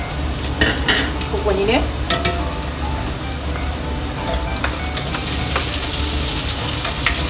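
Onions frying in a pan for an Italian-style bean pasta, with a steady crackling sizzle and occasional stirring clatter throughout, close and fairly loud, with a brief spoken word near the start.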